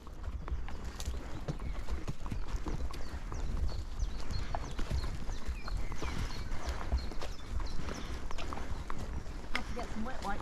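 A horse's hooves clop steadily on a hack out, each beat quick and closely spaced, under rustling outdoor noise and the rider's speech.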